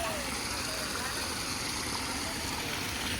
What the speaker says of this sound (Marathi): कसा धबधबा एकदम छोटासा धबधबा आहे